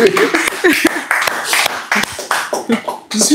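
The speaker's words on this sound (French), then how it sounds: "Applaudissons pour Jésus." A congregation at a night of prayer claps in quick, sharp bursts under a speaking voice, the claps scattered through the few seconds with the talk running on top.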